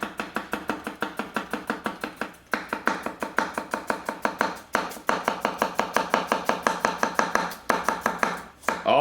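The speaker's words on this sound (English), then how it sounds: "Do a little chopping again." Rapid, steady chopping of celery with a Katsushige Anryu 240mm gyuto knife on a board, crisp close knocks in quick rhythmic runs with brief pauses between bursts.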